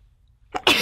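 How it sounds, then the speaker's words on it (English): After near silence, a quick sharp intake of breath leads into a single loud, explosive sneeze close to the microphone. "Sometimes you have to sneeze when you're doing a show."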